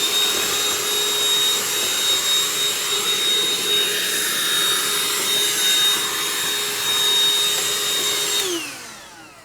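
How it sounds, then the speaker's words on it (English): Steady, loud vacuum cleaner whine sucking dirt out of a Mercedes-Benz air filter housing, running continuously with a high tonal hum, then spinning down at the end when switched off; no talking. "I'll hit it again with a vacuum."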